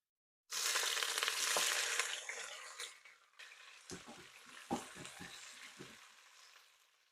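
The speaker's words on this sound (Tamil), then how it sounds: "வெங்காயத்தை நல்லா வதக்கிக்கோங்க." Onions hit hot ghee for mutton biryani and burst into a loud, bright sizzle that slowly settles. Softer stirring clatters and scrapes follow near the end.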